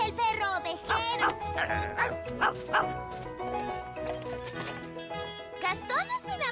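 A cartoon ladybird imitates a sheepdog, a voice producing a run of rhythmic yapping barks, several in quick succession, over background music with a short rising sound at the end.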